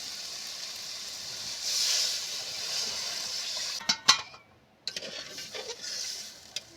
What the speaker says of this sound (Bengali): মশলাটা কষানো হয়ে গেছে এবার আমি জল দিয়ে দেবো